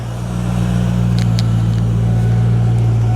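A wrecked 1993 Mustang Cobra's V8 runs close by with a steady low droning idle and a few faint clicks above it. The intake tube is off and the clutch fan sits close to the radiator.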